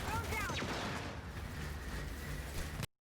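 Gunfire in Gears 5 Horde mode, a dense burst of shots and crackling impacts over a rumbling battle bed that runs steadily before cutting off abruptly at the end.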